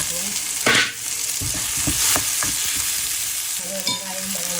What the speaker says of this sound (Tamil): வெங்காயம் வதங்கிட்டு தக்காளி போட்டு மட்டும் வதக்குவோம்.